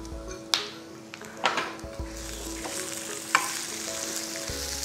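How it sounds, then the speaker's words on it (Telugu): Two sprigs of curry leaves and a finely chopped onion sizzle steadily in a hot pan for a chutney, with occasional stirring scrapes and utensil knocks over the continuous frying hiss. "ఓ 2 రెమ్మల కరివేపాకు, ఒక ఉల్లిపాయ చిన్న ముక్కలు తరిగి వేసేద్దాం"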